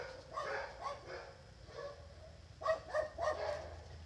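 A dog barks and yips a few times in short, moderately close bursts, a brief quieter cluster followed by a sharper run of barks, with no talking.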